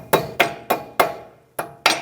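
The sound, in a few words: hammer tapping CV axle seal into place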